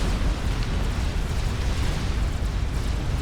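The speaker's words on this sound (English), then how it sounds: "The artillery is taking his shields down." Artillery fire pounding shields in Supreme Commander, heard as a constant, heavy rumbling roar of overlapping blasts with no clear gaps, loud and sustained throughout.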